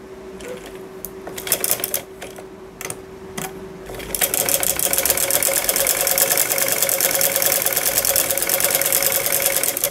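An electric sewing machine stitching a salwar pocket, first a few short clicks and bursts, then a loud steady run of rapid stitching from about four seconds on, alone without talk.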